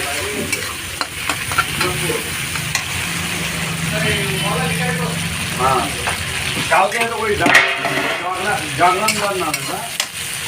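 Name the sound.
frying fish oil dish with coriander leaves in a pan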